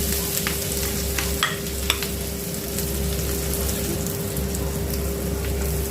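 Onions sizzle and fry steadily in a pan as the base for a pasta sauce, with a continuous crackling hiss, a low steady hum underneath, and occasional stirring scrapes, close and even throughout with no talking.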